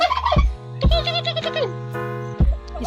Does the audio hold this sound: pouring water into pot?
no